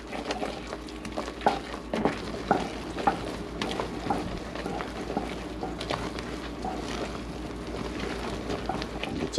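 Spoon stirring baking soda into hot, bubbling cashew brittle in a pan just off the heat, a continuous close scraping and sticky stirring rhythm with soft sizzle underneath, no voices.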